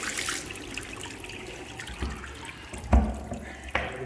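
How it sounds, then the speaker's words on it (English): Water drains from a water heater into a dish in a steady trickle, with a few sharp clunks and knocks breaking in near the end. "I'll just let that drain into my dish a second."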